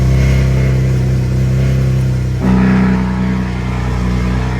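A BMW M4 track car's engine runs loud and close with a deep, steady drone. Partway through, a brief blip of revs briefly raises the pitch and volume, then the engine settles back to a sustained roar.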